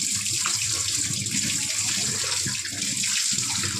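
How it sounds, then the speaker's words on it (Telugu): Coriander, mint and curry leaves being rinsed under running water, a steady close gush of tap flow splashing over the leaves, continuous for a few seconds without speech. "కొత్తిమీర పుదీనా కరివేపాకు దీన్ని శుభ్రంగా ఇలా మనం క్లీన్ చేసుకోవాలండి"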